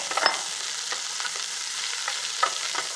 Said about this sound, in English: as that butter melts, we're going to add sliced onions